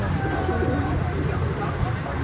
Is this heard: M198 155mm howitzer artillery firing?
no